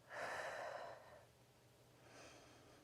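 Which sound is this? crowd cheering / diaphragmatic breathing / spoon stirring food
diaphragmatic breathing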